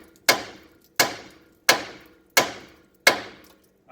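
Five sharp, loud metal hammer smacks on a truck's lower ball joint, evenly spaced under a second apart, each ringing briefly before fading, with no talk.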